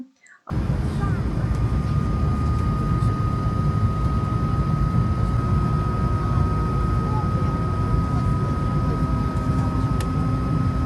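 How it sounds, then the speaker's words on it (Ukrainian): Inside Paris airport, a loud steady engine-like roar fills the space continuously, with a faint thin whine running over it. "Окей, це ми вже в аеропорту у Парижі."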